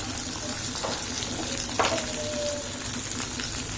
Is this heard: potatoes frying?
yes